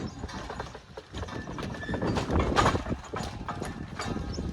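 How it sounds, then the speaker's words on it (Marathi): Bullock cart: hooves clop steadily along with a creaking, rattling cart, all under a dense background of outdoor noise. "बैलगाडी बघू शकता"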